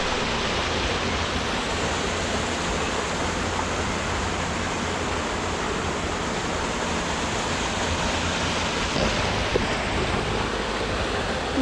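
Rushing water from the Chicosa cascades, a series of waterfalls in a gorge below a lake in Auvergne, roars as a steady, dense, broadband wash close by, with no voices over it.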